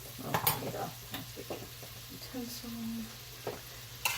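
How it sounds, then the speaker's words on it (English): Potatoes frying and being stirred in a pan for chicken stew, a soft sizzle with scraping utensil strokes and clatter, close by, steady and moderately quiet. "So we're going to cook the potatoes first."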